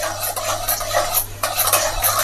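Chana dal being stirred and fried in a pan, with a steady scraping of the spoon and a soft sizzle running continuously at close range, no voices.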